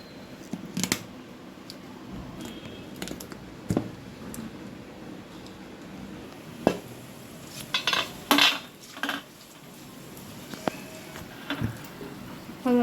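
A spoon clinks and taps against a mixer jar as turmeric, chilli, coriander-cumin powder, salt and Kashmiri chilli are added, giving scattered metallic clicks and scrapes with quiet gaps between them.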